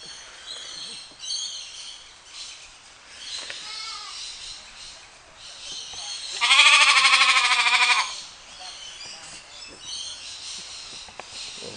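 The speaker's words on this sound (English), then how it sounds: "Looks like found some sheeps." Sheep bleating outdoors in a park setting, several wavering calls with one loud, sustained bleat in the middle and fainter cries before and after.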